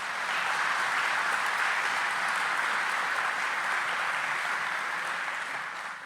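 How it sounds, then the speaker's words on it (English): Sustained audience applause at a groundbreaking ceremony for a new port of entry, a steady wash of many hands clapping outdoors at even volume throughout, with no talk over it. "let's give her a round of applause"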